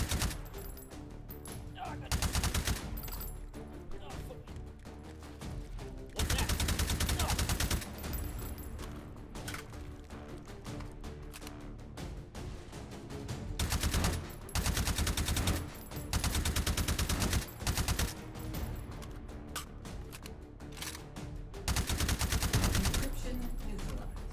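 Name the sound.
rapid gunfire with +P incendiary rounds in H3VR video game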